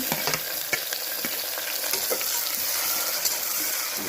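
Tomatoes and onions sizzle in a pan for a mattikaya pulusu, a steady close frying hiss broken by scattered clicks and light scrapes of a spoon, with no voices.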